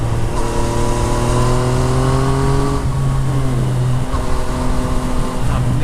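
A 2014 Yamaha MT09 with a full Akrapovic exhaust accelerates hard, close and loud, its engine note climbing through several rising sweeps with short breaks between gear changes.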